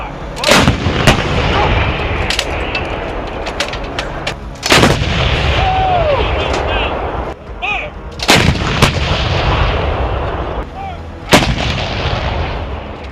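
Towed M777 howitzers firing in a Ukrainian combat setting, a series of loud sharp blasts at irregular intervals, each followed by a rumbling roar and echo, with no talk.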